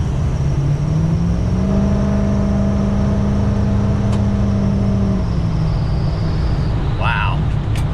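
A 2006 Ford F350 4x4 Lariat diesel truck pulls away, its engine drone rising in a steady climb and then easing off under a constant rush of road and cabin noise.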